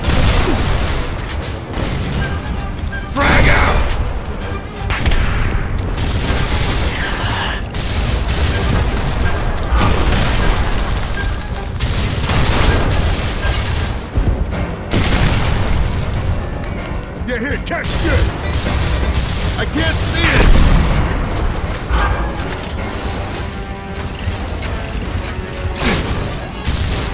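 Frag grenade explosions and heavy gunfire in the shooter Gears of War Ultimate Edition, repeated loud booms and crashes layered over constant battle noise and mechanical clatter, with voices calling out at times.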